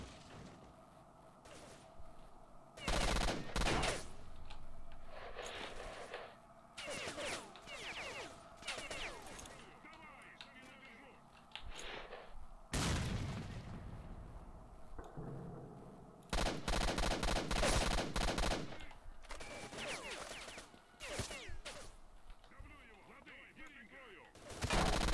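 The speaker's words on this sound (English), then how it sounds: "I love the sound this weapon makes." Weapon fire in the video game S.T.A.L.K.E.R.: Shadow of Chernobyl, with repeated loud bursts of shots broken by quieter gaps of ambient game noise, faint indistinct talk in places.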